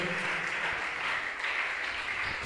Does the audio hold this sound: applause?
yes